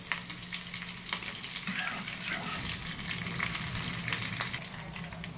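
Tempering of mustard seeds, cumin, urad dal, dried red chillies, garlic and curry leaves in hot oil for gongura dal, a steady close crackling sizzle with faint stirring throughout, no voices.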